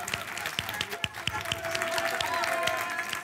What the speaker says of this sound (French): J'aimerais ça qu'on leur donne une belle grosse main d'applaudissements.